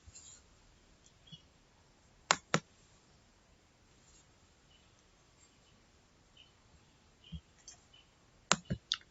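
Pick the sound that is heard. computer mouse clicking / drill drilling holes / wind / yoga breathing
computer mouse clicking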